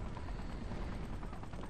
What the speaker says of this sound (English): Another helicopter.